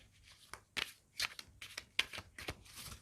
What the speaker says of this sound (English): I'm shuffling the cards now for you for the week.